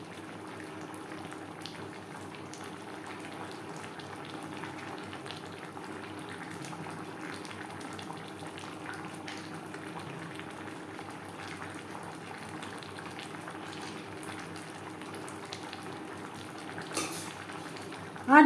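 Fish bones from bhetki simmer in gravy in a pan on the stove, a steady soft bubbling and sizzling that continues evenly throughout with no talking.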